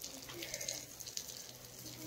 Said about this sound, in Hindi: बहुत धूल हो गया बोल के अभी इसमें थोड़ा हम लोग पानी छिड़काव कर रहे हैं